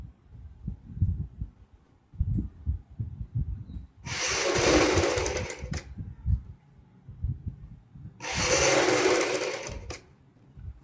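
Sewing machine stitching the front seam of a kurti, two sustained loud bursts of running stitches separated by quieter handling noise.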